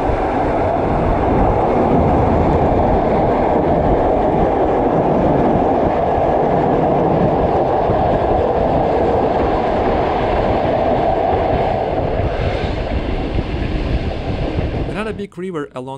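A train on the Russian Far East railway rumbles along the rails with a loud, steady roar and rhythmic clatter of wheels, close by, fading slightly before a voice speaks at the end.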